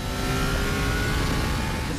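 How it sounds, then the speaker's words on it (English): A 2016 Kawasaki Z800 ABS motorcycle with an inline-four engine roars steadily and loudly, a dense continuous engine drone with no talk over it. "have that authentic Kawasaki sound, that Z powerful inline four roar"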